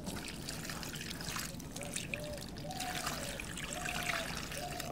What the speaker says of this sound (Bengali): আর এখানে একটু জল দিয়ে দিচ্ছি আমি